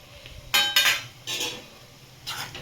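A spoon stirs pickle masala, turmeric and chili powder in hot oil in a metal pan, giving a few separate scraping clinks against the metal with short pauses between them.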